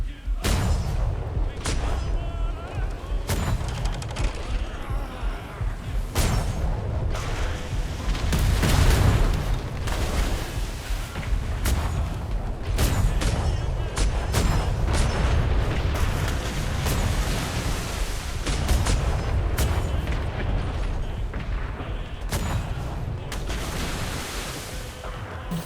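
Ship cannons in a roleplay video game fire in a dense barrage of repeated booms and blasts, loud and continuous throughout, with overlapping explosions and rumble.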